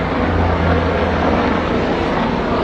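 A helicopter passing overhead outdoors, a loud, steady broadband rotor and engine roar that holds constant and close throughout with a low throbbing hum underneath, no speech.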